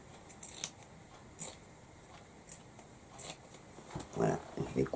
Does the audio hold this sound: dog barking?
no